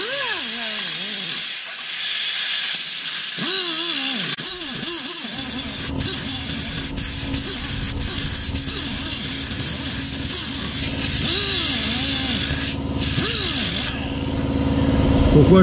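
A power cutting tool slices through a rounded-off screw on a 2005 BMW 530d E60 during a particulate filter replacement, giving a loud hissing whine that rises and falls in pitch as the blade bites, steady for many seconds.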